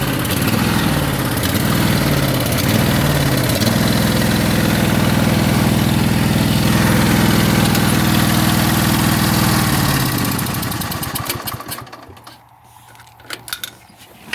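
A Craftsman small engine idles loudly and close with a steady low rumble, then cuts out near the end, leaving scattered faint knocks.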